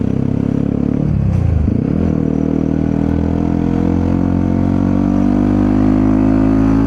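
A scooter-type motorcycle climbs a mountain road toward Mount Bromo, its engine droning loud and steady with a brief dip in pitch as it eases off and then pulls again, accompanied by continuous road and wind rumble.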